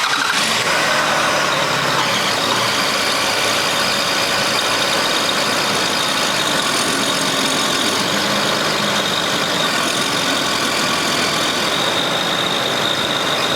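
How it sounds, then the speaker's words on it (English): A 2001-2007 Toyota Highlander AWD V6 engine idles loudly and steadily close by, a continuous rumbling drone with no talking. "when the engine's running and the transmission pump's on"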